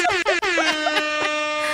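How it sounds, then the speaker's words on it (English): A blaring air horn with loud, brassy stuttering blasts, sustained and wavering for nearly two seconds. "I meant to do an air horn."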